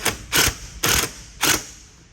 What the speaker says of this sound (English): I can now run my screw through, line it up.